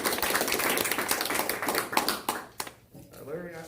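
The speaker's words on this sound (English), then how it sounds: "Can we give them an applause?" A crowd at a town council meeting claps together in a dense burst of applause that thins out and fades, with a voice speaking near the end.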